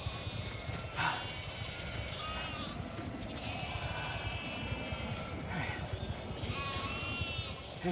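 Sheep bleat repeatedly over a steady farmyard ambience in The Alters video game, with scattered high calls rising above a dense low rumble of animal movement.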